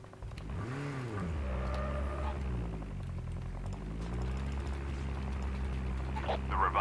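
A vehicle engine in Call of Duty Mobile hums steadily with rising and falling revs, close and continuous under a gameplay mix, with a player talking over it.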